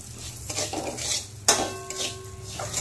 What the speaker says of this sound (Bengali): ওই ঘিয়ের মধ্যে এবার আমি 1 বাটি গোবিন্দভোগ চাল ভালো করে ভেজে নেব।